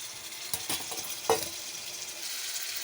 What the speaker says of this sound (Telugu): అది వేపేయండి బాగానే.